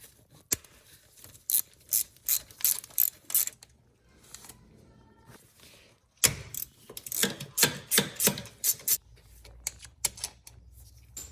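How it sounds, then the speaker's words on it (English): Hand ratchet loosening 12mm bolts on the passenger-side fuel rail of a Subaru STI during intake manifold removal, giving two close bursts of rapid clicking, each a quick series of pawl clicks, separated by quiet pauses while the tool is repositioned. "we're going to remove the bolts off of the passenger side fuel rail"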